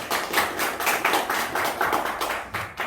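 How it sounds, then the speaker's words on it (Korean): An audience applauds at a signing ceremony with dense, steady clapping from many hands that swells and dips slightly, fairly close and without speech. "박수 부탁드리겠습니다"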